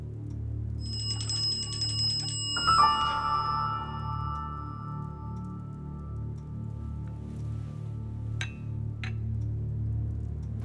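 A telephone rings briefly with a bright electronic trill over a low steady hum, then fades, leaving faint clicks in the quiet room.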